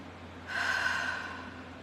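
A single deep belly breath is drawn in close to the microphone, a soft airy rush that swells and then slowly fades, alone with no speech.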